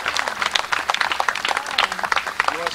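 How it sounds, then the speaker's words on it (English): Applause from a small gathered crowd at a tribute event at a trading post in Chokoloskee, Florida, with dense, uneven clapping running for the whole stretch. A few voices mix in faintly underneath. "So let's everybody give Ms. Douglas a round of applause."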